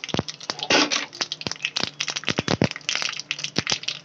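Mustard seeds with a little urad dal crackle and pop in hot oil for a Tamil coriander chutney tempering, with dense, sharp snapping bursts in quick irregular succession, close and loud.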